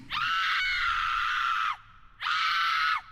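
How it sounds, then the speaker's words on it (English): A woman's terrified scream, long and piercing, breaks off, then a second shorter scream follows close and loud. "That's when I heard the scream."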